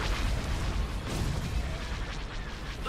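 Laser and cannon fire in a Star Wars space battle game rumbles continuously, a dense stream of booming blasts and crackling bursts with no pause.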